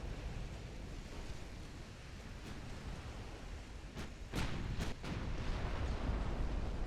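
Naval guns fire in the Ultimate Admiral Dreadnoughts video game: a few sharp, heavy booms land over a steady roar of sea and wind, followed by a louder rumbling wash.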